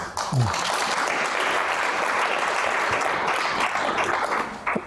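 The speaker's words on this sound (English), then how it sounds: "that's the second round of applause you've got already" A panel discussion audience on the future of democracy claps in a sustained, dense burst of applause that fills the room loudly from start to finish, with no talk over it.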